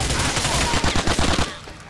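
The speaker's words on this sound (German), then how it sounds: "Blindes Schießen." Rapid automatic gunfire from GTA IV: The Ballad of Gay Tony, a dense burst of loud shots that runs for about a second and a half, then stops abruptly.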